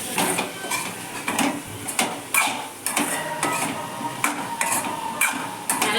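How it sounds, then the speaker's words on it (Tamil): A spoon stirs potato fry in a pan, with repeated metallic scrapes and clinks in an uneven rhythm over a soft sizzle; close and clear, with no speech. "நல்லா முருக வர வரைக்கும் பொறுமையாக நம்ம அதை கிண்டிகிட்டே"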